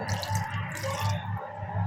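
Water poured into a pressure cooker pot holding goat trotters being boiled, a steady splashing, gurgling stream at close range that lasts the whole moment without pause.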